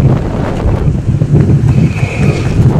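Steady low rumbling buffets of wind hitting a microphone, continuous and fairly loud throughout, with no voices.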